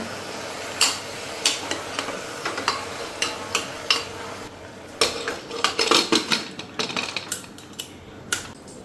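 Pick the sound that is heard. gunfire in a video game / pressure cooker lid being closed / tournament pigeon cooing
pressure cooker lid being closed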